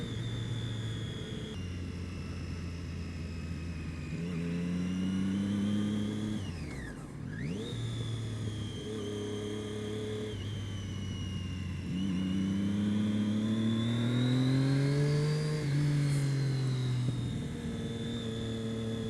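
A sport motorcycle, a Suzuki GSX-R750 or Triumph Daytona 675, being ridden. Its engine drones steadily and rises and falls in pitch with the throttle, and another vehicle sweeps past around the midpoint, with no talking.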